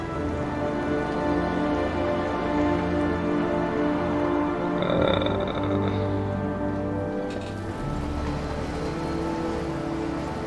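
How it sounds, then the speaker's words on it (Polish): Steady rain in the video game Heavy Rain, a dense continuous hiss with soft drumming on surfaces, moderately loud throughout, with music-like tones underneath and no speech. "jest od tamtego czasu leje deszcz ciągle"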